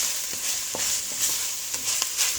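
A spoon stirs dry seasoning of oregano, salt and dried basil into a vegetable lasagna sauce, with irregular soft scrapes and taps over a constant close sizzle and no talk.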